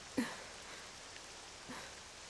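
Purple rain falls in the Octopath Traveler 2 video game, a faint, steady hiss with a couple of soft pattering hits near the start and later, heard alone.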